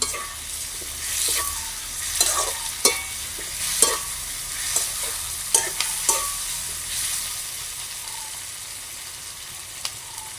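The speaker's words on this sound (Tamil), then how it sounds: "நல்ல வடிவாக வதங்கட்டும் தக்காளி பழம்" Tomatoes, onion and green chili sauté in a pan with a soft, low sizzle, broken by a series of sharp spoon scrapes and taps against the pan, close and without talking.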